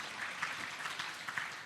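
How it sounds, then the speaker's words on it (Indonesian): Congregation clapping during an Indonesian church sermon service, a steady dense wash of applause with scattered louder claps, fairly quiet and continuous throughout. "Tepuk tangan bagi Yesus."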